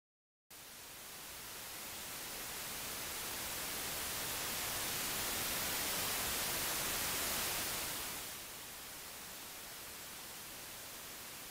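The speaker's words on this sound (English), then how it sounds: "this is what we expect to hear when eventually we can listen to the very beginning of the universe" Simulated hiss of gravitational waves from the Big Bang, a broad steady rushing static like white noise that swells gradually, then drops to a lower level for the last few seconds, heard alone.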